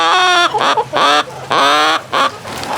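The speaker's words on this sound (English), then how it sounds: "All 4 of those girls are New Hampshire chickens." New Hampshire Red hens in a backyard flock clucking and squawking close by, several bursts of loud, harmonic calls in quick succession with short pauses between.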